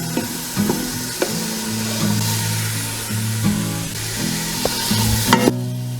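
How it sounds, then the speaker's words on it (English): Onion and turkey sausage kielbasa frying in olive oil in an Instant Pot, a steady close sizzle with stirring clatter and a few sharp knocks from the utensil, a low hum running underneath. "I'm gonna add the onion and the turkey sausage."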